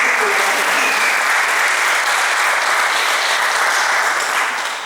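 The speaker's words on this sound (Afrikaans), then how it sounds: "ek dink ons kan vir haar 'n lekker hande klap gee" A church congregation applauds a birthday woman during a Sunday service, a dense, steady burst of many hands clapping that fills the room and fades slightly at the end.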